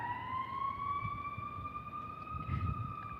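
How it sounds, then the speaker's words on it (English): A distant emergency siren wails steadily, its tone slowly rising, with faint low background rumble and no talking. "Sorry about the siren."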